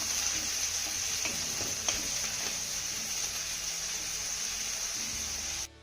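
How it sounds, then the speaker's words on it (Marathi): Finely chopped onion is sautéed in a pan until light golden. A steady, close sizzle with faint stirring ticks runs throughout and cuts off abruptly at the end. "आता हा कांदा देखील आपल्याला हलक्या सोनेरी रंगावरती चांगला परतून घ्यायचा आहे"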